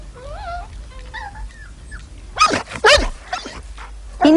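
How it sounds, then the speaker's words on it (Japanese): A dog makes a few soft whines, then lets out several sharp, loud barks in quick succession, close by. "犬がいます。"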